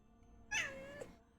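A cat gives a single clear meow, rising then falling in pitch with a brief second note at the end, fairly close and loud over a quiet room background.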